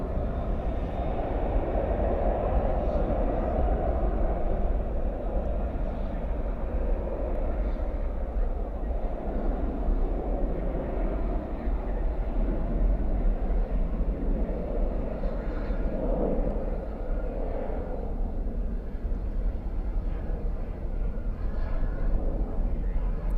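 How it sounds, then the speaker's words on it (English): Two Boeing 787 Dreamliners move in parallel at night at Dallas/Fort Worth airport, producing a continuous low jet-engine rumble from a moderate distance that holds steady for over twenty seconds. "That was 2 Dreamliners parallel to each other."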